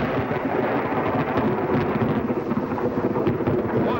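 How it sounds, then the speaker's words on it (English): Copper mine blast set off with ammonium nitrate explosive in the Utah desert, heard as a deep, rolling rumble that rumbles on steadily like distant thunder, with no voices. "What an explosion! Thunder over Utah!"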